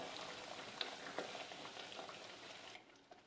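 Butter sizzles and melts into caramel in a pan, a soft continuous frying hiss with small pops and the occasional scrape of stirring, fairly quiet and close.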